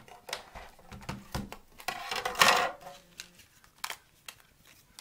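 A Big Shot die-cutting machine feeds framelits and cardstock through its rollers, giving scattered close clicks, rattles and a gritty crunching pass as the plates move, with quiet gaps between.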